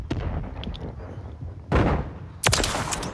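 Gunfire in a multiplayer shooter video game: muffled distant shots patter early on, then two loud close bursts of firing break in near the middle and the end.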